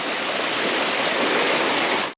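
A waterfall hung with icicles on a cold winter trail pours as a steady broadband rush, moderately loud and unchanging throughout, with no voices.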